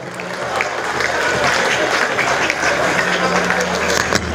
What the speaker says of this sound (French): On applaudit une fois encore pour les accompagner,